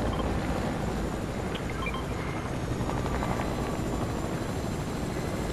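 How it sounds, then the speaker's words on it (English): Continuous rotor roar of a helicopter in a video game, a loud, steady drone with a churning low rumble that holds unchanged throughout, with no voices over it. "It's another helicopter right here too."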